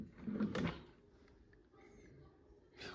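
A drawer slides open or shut once with a short wooden rumble and knock, fairly faint, followed by quiet room sound and a brief noise at the end.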